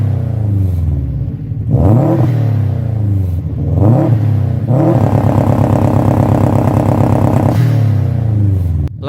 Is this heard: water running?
no